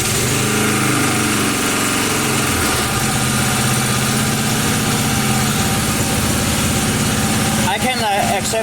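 A 1980 power tiller with a Briggs and Stratton engine runs steadily at half throttle, a loud, close, continuous buzzing drone that stays even throughout.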